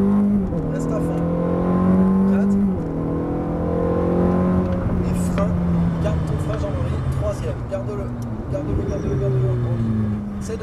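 A Ferrari F430 F1 engine revs hard on a race track, rising through gears with sweeping upshifts, while an instructor talks over the roaring, accelerating engine note.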